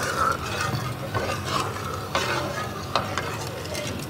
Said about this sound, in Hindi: तो कोशिश कीजिए मुसलसल चम्मच हिलाते रहें, चम्मच से नीचे चीनी नहीं लगना चाहिए।